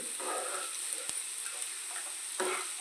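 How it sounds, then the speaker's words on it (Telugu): Sliced onions fry in hot oil in a pan for an egg fry, giving a steady soft sizzle with a few sharp clicks of a utensil against the pan. "ఉల్లిపాయలు వేసుకుందామండి ఉల్లిపాయలు బాగా ఫ్రై అవ్వాలండి"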